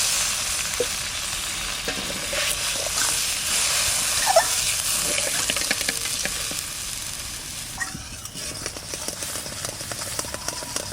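Spiced masala frying in a pan for a Bengali koi fish curry, water splashing in to raise a steady loud sizzle with scraping, clacking stirring strokes throughout.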